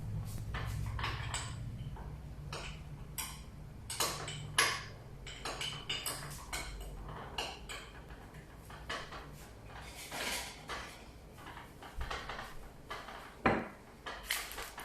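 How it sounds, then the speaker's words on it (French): A spoon stirs melted chocolate in a bowl over a bain-marie, making faint, scattered clinks and scrapes against the bowl in a quiet kitchen. "Je vais remuer mon chocolat."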